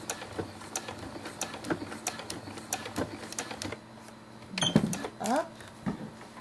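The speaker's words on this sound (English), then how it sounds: "I'm going to tell my machine to knot the thread." A sewing machine stitches in quick, even ticks, pauses, then runs a short clattering burst with a mechanical whirr as it knots the thread, close by.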